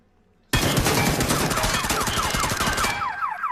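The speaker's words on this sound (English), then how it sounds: "I'm about to shoot it." Sustained rapid automatic gunfire in a battle-royale video game, loud and close, starting abruptly after a moment of silence and running continuously, with a rising-and-falling alarm tone emerging underneath toward the end.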